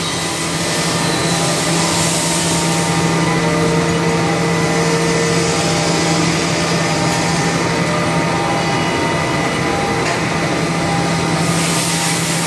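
A 2005 Haas SL-30M live-tool CNC turning center with its spindle running at 2500 RPM, a loud, constant whirring machine hum with steady tonal whine held throughout, no talk.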